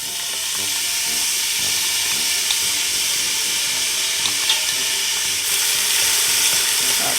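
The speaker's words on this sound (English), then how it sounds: "The butter is all melted and now I'm going to add my chopped onions." Chopped onions fry in melted butter with a steady, dense sizzle and crackle that holds loud and close throughout, with a few faint clicks over it and no talk.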